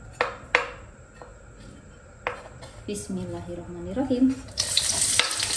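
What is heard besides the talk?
shallots and garlic frying in hot oil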